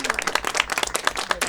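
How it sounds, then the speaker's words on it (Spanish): Hands clap in a quick, uneven burst of applause from a small group, dense and close, lasting only a moment. "aplauso por eso."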